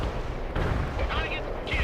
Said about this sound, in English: Missile locked! Firing!